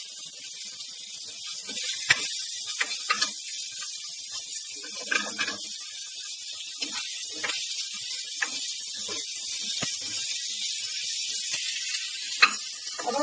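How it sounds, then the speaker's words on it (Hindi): Onions and turnips fry in a pan for a red kidney bean and turnip dish, giving a steady, hissing sizzle broken by occasional clinks and stirring scrapes, with no talk. "अब हम इसमें प्याज और शलगम डाल देंगे।"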